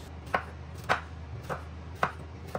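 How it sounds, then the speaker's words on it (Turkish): Peppers being finely chopped with a knife on a cutting board for a stuffed eggplant filling: five sharp, evenly spaced knife strikes, close and alone. "Arkasından biberleri ince ince doğruyoruz."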